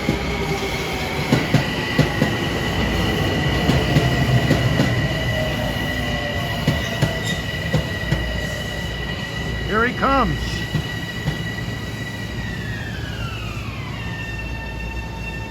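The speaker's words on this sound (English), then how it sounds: "He should be passed up here by one of the hottest trains on Metro North, train 849 from Grand Central to Poughkeepsie" A Metro-North express, train 849 from Grand Central to Poughkeepsie, approaches and rushes past at Ardsley-on-Hudson with a rumbling roar, clattering wheels and sustained horn tones, the pitch dropping as it passes, with a brief spoken remark.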